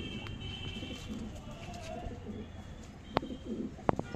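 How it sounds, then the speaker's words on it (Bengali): A female pigeon coos in a loft, soft low calls repeating at close range over a steady background murmur, with a couple of sharp clicks near the end. "এটা মাদা পায়রা আপনাদেরকে দেখাচ্ছি"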